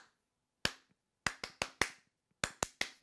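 Hand claps tap out a guitar strumming rhythm during a song lesson: eight crisp, close, isolated claps in an uneven down-up pattern with silence between them.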